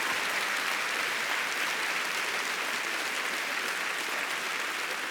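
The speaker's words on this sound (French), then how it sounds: "On peut applaudir Michel Drucker." A large studio audience at a comedy gala claps for Michel Drucker, an even, continuous roar of applause held at a steady level for several seconds, with no speech above it.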